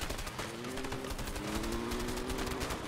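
Submachine gun fire in the video game A Way Out, a steady dense burst of gunshots running continuously and loud through the clip, with a sustained tonal hum beneath and no talking.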